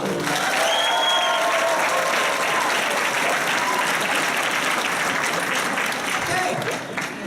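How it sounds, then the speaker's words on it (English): A theatre audience at a live musical show in Hamilton, Bermuda breaks into sustained applause, a dense, steady wall of clapping mixed with faint crowd voices and whistles that holds loud throughout before easing slightly at the end. "please applaud us now"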